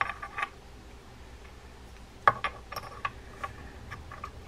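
A Shakespeare Sigma 040 spinning fishing reel's gears and offset main gear turn during servicing, giving a soft run of faint mechanical clicks and ticks with a sharper gear snap partway through, close up and with no talking.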